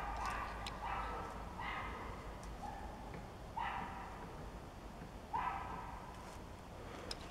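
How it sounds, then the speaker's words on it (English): Several dogs bark at a distance in short, scattered bursts, faint against a steady background hiss. "Well, dogs are barking."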